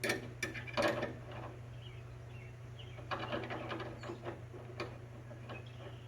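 Fan shroud bolt clips are tightened on a 1977 Ford LTD Country Squire radiator, with a few quiet, close ratcheting clicks in short bursts over a faint steady hum.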